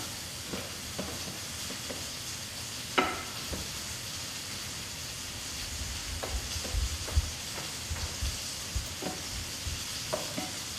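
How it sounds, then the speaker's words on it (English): Garlic cooking in a pan gives a steady, close sizzling hiss throughout, with occasional light taps and scrapes from stirring. "toss in the garlic and get it cooking"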